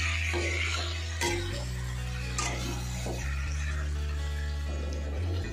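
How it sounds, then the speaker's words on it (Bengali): Marinated chicken for coriander chicken is stirred and fried over a lowered flame, soft sizzling and spoon scrapes sitting under a loud, steady low hum with tonal shifts. "বা গ্যাসের ফ্লেমটা কমিয়ে এবার ভালো করে এটা মিশিয়ে নিয়ে ভালো করে কষাবো।"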